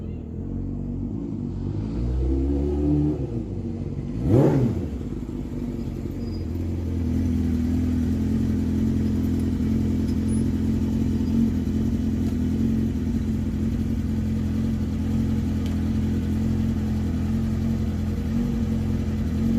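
A motorbike engine, the owner's bike named Matilda, rumbles close by with a brief rev near the start before settling into a steady, loud idle that carries on throughout, with no voices over it.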